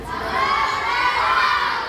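Children in a scout patrol at a backyard camp shout their patrol yell together, a loud, sustained group cry lasting about two seconds.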